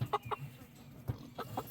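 A rooster in a mixed backyard flock gives a few soft, low clucks, faint and near, in a quiet setting.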